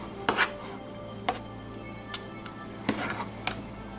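Teriyaki noodles stirred in a metal canteen cup, heard as several sharp scraping knocks of a utensil against the cup spaced irregularly over a low background hum, close by, no talking.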